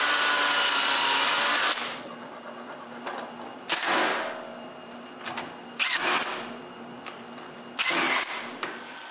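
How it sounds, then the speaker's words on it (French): Power drill driving screws into wood while building a wooden band saw: a long whirring run at the start, followed by three short separate bursts of the drill spinning up and stopping. "je le colle, puis je le visse en place"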